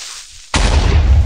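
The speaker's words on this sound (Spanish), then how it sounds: "Aquí está un creeper, explota." A creeper blows up in Minecraft Pocket Edition, a sudden loud booming blast that cuts in after near-silence and rumbles on heavily to the end without any voices.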